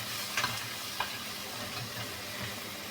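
Onions sauté with salt in a pan, giving a steady, close sizzle. A ladle scrapes and clicks against the metal twice.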